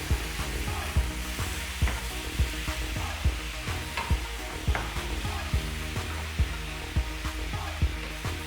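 Beef and onions fry in a pan with a constant busy sizzle, while a regular rhythmic knocking repeats about once a second underneath, loud and close.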